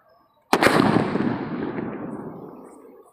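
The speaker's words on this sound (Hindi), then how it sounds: "हमारे पास दो है सुतली बम तो दोनों को जलाते हैं देखते हैं कैसे फटते हैं" Sutli bomb firecracker exploding outdoors, a single sharp loud bang followed by a long rumbling decay that fades over a few seconds, no voices.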